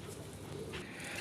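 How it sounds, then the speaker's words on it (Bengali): A pair of old-breed native Bangladeshi deshi pigeons coo softly, a brief, faint, low murmur close by with no voices. "আমরা আরেক জোড়া কবুতর দেখতেছি, আর এটা কিন্তু সেই পুরান জাতের আমাদের দেশি কবুতর"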